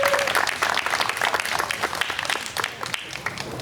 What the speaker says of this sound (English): Can we please give these educators a massive round of applause?